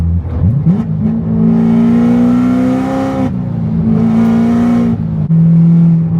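A Chevrolet Corvette C7 ZR1 engine revs up, holds a loud steady drone, dips, then climbs again, close and alone.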